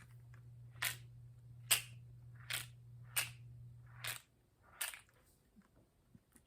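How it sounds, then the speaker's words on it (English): A Gundam paint marker shaken by hand, its mixing ball clacking inside in six sharp separate rattles spaced about a second apart, close and crisp over a faint steady hum in a quiet room. "You can hear a ball in them, kind of like a can of spray paint"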